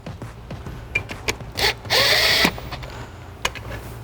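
Short bursts from a power tool snugging down bolts on a Hellcat supercharger during teardown, with clicks and mechanical rattles between the pulses and one longer whirring run in the middle.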